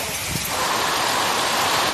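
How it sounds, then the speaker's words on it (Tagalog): Heavy rain and wind from Typhoon Verbena in Giwan, Eastern Samar, a dense, steady roaring hiss of downpour and gusts that stays loud and unbroken throughout. "Malakas na ulan at hangin ang pinamalas ng bagyong Verbena sa Giwan,"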